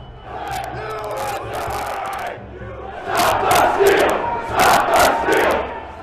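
Crowd of rioters at the US Capitol, a dense mass of shouting voices that swells into louder overlapping yells and chants, with no single speaker standing out.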